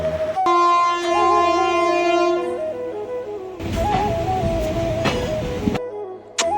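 Inside a moving train, a steady tonal horn-like drone and shifting whine persist with rumbling carriage noise, loud and close, with a sharp click or bang near the end.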